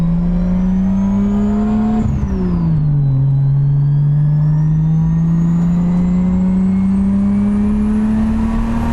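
A Toyota Supra MK3 with a turbocharged 1JZ engine and a new downpipe revs loudly and close by. A steady droning tone dips briefly, then climbs slowly again, with no talk over it.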